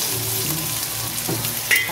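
Bitter gourd (ampalaya) toasting in oil in a pan, a steady soft sizzle with faint crackles and a brief scrape near the end, close and continuous with no talking.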